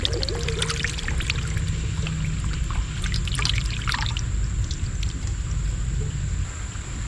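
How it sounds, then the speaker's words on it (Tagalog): Milk poured into a coconut milk sauce while cooking outdoors, a steady liquid stream and trickle running the whole time over a constant low background rumble. "Tapos lagyan natin ng gatas"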